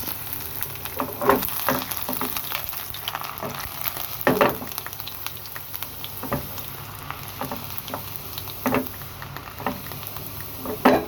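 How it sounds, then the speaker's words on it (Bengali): Chopped garlic and dried red chillies sizzle steadily in hot oil, with a continuous close crackle broken by sharp spatters and occasional utensil knocks, no voices. "শুকনো মরিচটা ভাজা হয়ে গেলে আমি দিয়ে দিব রসুন কুচি"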